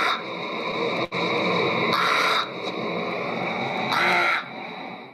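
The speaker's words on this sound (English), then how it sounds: "You've got 20 rooks in a tree and they're all doing it" Several rooks caw together in a harsh, overlapping chorus, with louder bursts now and then, close by and continuous.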